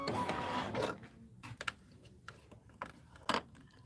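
A Kimberbell embroidery machine stitches a tack-down line in the hoop for a holiday rope bowl, starting with a dense mechanical whir and then settling into sparse, quiet ticks and short taps.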